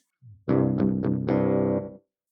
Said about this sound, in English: Here's a metal distortion.